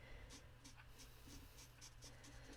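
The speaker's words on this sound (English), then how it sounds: "I'm just going to try the other nib" Pen nib scratching across patterned paper in quiet, faint strokes, with soft short rhythmic scrapes and a low steady hum underneath.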